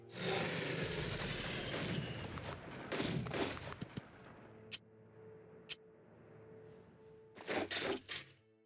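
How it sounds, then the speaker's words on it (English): A bombing run in the strategy war game Unity of Command 2 brings dense bursts of explosions and gunfire that thin into scattered sharp blasts, then a final loud cluster near the end. "This has got to be a bombing run."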